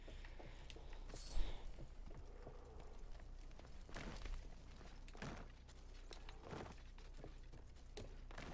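Horse hooves clip-clopping near a river ford in the video game Assassin's Creed Odyssey, faint irregular footfalls over quiet ambient game sound.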